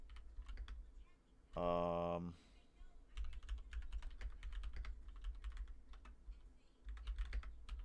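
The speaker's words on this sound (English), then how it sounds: "typing right now because I'm looking up something" Typing on a computer keyboard during a podcast recording, with rapid light clicks spread through the clip, a brief loud tone burst near the start, and people talking briefly.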